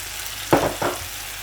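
Sardines go into a hot pan with bitter gourd and bring two quick, close bursts of sizzling against a low background hiss.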